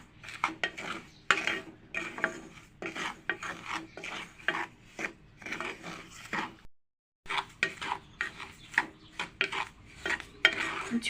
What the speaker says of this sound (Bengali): আবার একটু ভেজে নেব।